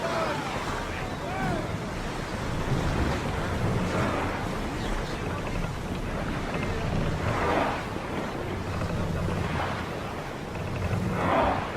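A sailing ship moves over sea waves in Assassin's Creed Odyssey, a steady wash of surf and wind that holds at an even level throughout, with faint voices mixed in.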